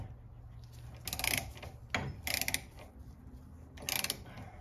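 A 3/8 tap is turned by hand to cut threads while repairing a bench vise, giving intermittent bursts of scraping, ratcheting metal in three short spells with quiet pauses between, close by.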